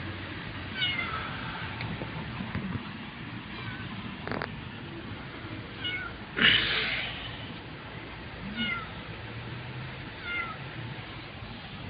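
A cat meows several times, short and fairly close, scattered over steady background noise with a low murmur of activity.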